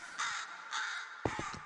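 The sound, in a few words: crow cawing in Minecraft horror mod, video game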